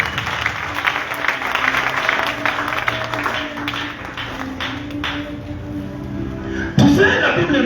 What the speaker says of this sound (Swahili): Ampigie Bwana makofi. Acclamez très bien le Seigneur.